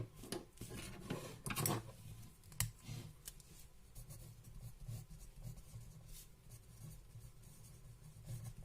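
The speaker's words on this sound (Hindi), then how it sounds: "सो सबसे पहले हम लिखेंगे" Chalk or marker scratching on a board during a Class XII physics lecture on atoms and nuclei, with a few quick strokes and taps early on and faint, steady room noise afterward.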